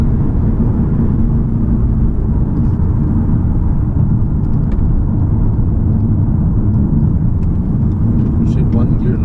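A 2019 Mazda 6 SkyActiv diesel with turbos drives in 4th gear, its engine and road noise forming a loud, steady low rumble heard from inside the cabin, with a few faint clicks above.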